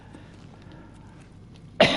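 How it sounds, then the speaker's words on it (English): A single sharp cough from a person with a lingering cold bursts out loud and close at the end, after a near-silent stretch. "there's occasional coughing"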